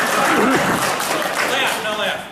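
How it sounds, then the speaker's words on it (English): Audience applause at a nerd parody club meeting, a dense continuous wash of clapping at steady loudness for the whole stretch, mixed with voices and scattered laughter. "First of all, applause."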